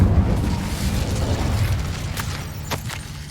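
A fire spell cast in the wizarding game Hogwarts Legacy: a dense, roaring burst of flame that carries steadily through the whole moment, with a couple of sharp crackling flares near the end.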